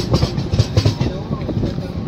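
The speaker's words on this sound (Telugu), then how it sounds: "రేణిగుంట్ల ప్లాట్ఫామ్ మీదకి అయితే వచ్చేసింది మన బండి" The Venkatadri Express pulls into the platform at Renigunta station with a steady, close rumble of carriages and a few rhythmic wheel clacks early on, and no clear talk over it.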